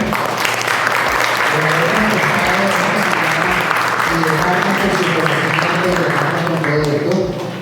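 At a health talk in a university engineering hall, the audience gives the arthritis specialists loud, sustained applause, with a low rhythmic thump of music running underneath.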